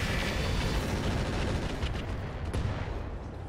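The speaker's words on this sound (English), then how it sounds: "So I'm going all in with the machine guns." Mech-mounted machine guns fire in a BattleTech RogueTech battle, a loud, dense continuous burst of rapid gunfire lasting a few seconds with no talking.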